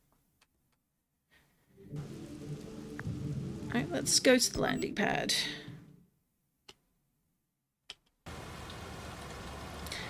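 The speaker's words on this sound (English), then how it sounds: "The rain is deafening now." Heavy rain in the video game TRON: Identity starts up after a quiet stretch, a dense steady wash under a man's speech, then drops out and returns loud and constant near the end.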